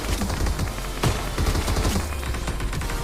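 Gunfire in a battle royale mobile game as an enemy is knocked with a headshot, a dense burst of rapid shots over continuous game ambience, loud and close with no talk.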